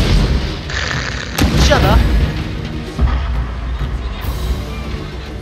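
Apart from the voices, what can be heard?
ship cannon fire in video game Total War: Shogun 2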